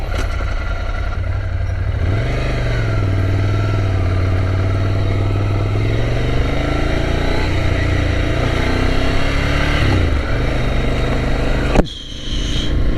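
A 2017 Ducati Scrambler Desert Sled motorcycle engine heard while riding, a steady loud mid-pitched drone that rises and falls in pitch with throttle changes, with wind noise throughout and a brief dip near the end.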